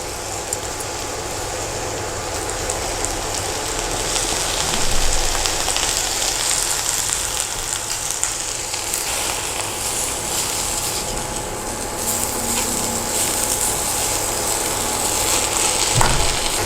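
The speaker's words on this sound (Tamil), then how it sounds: "முருங்கைக்கீரை நல்லா வதங்கியிருக்கு." Drumstick leaves and onions sauté in a pan for ragi adai, giving a steady, loud hiss and sizzle that runs unbroken with faint stirring scrapes and no talking.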